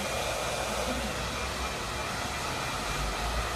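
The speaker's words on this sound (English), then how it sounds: "This is my twin turbo Arrojo dryer." An Arrojo twin turbo hair dryer blows at full power while drying hair during a bob haircut, giving a steady, loud, unbroken roar that runs throughout with no voices over it.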